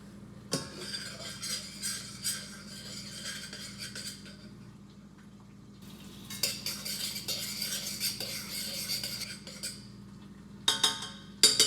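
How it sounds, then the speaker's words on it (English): A metal spoon scrapes and clinks against a pot of boiling rice in a kitchen, with rapid irregular stirring strokes in bursts over a steady low hum, close and fairly loud, with a pause midway. "I've got to stir the rice now that's actually boiling."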